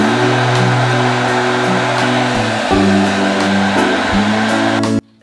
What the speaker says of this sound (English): I have taken the dryer here. I'm gonna start blowing the air on this biscuit